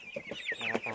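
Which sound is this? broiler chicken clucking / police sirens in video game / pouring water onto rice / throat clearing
broiler chicken clucking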